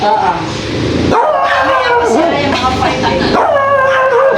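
A dog gives high yips and whimpering cries that rise and fall through the clip, close by and mixed with people talking nearby.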